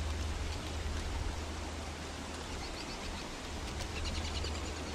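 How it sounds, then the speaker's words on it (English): Steady rain falls in the game Don't Starve Together, a dense, even hiss with a low rumble beneath it and faint bird-like chirps drifting in near the end. "Speak up, rain is loud."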